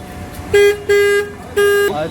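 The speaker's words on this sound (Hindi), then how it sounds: "एक बार बजा के दिखाना हॉर्न प्लीज गाइस, हॉर्न सुनिए।" Three honks of a Bajaj Pulsar N250 motorcycle horn, a short beep then two longer blasts, nasal and steady in pitch, sounding close by.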